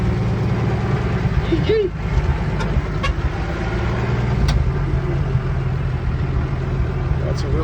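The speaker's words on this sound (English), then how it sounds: "That's a Willys pickup." All-original 1960 Willys pickup truck driving, its engine a steady low rumble throughout, with a brief voice exclamation partway through.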